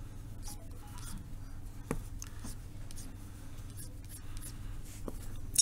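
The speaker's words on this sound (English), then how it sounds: "I start everything with a nice loose sketch." Soft, loose pencil strokes scratch across a sketch card, faint and intermittent, with a few light taps over a low, steady room hum.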